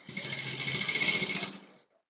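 A sewing machine stitches a kurti in a steady, fast, close-up whirring run of about two seconds before it stops, with no talking.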